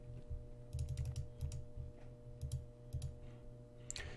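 Typing on a computer keyboard during an algebra lesson, a few quick bursts of key clicks separated by short pauses, close and fairly quiet over a steady low electrical hum.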